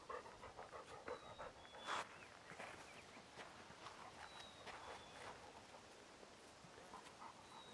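A dog pants quietly out on a walk, a faint, rapid, breathy rhythm that runs continuously with soft footsteps and a few brief outdoor sounds around it.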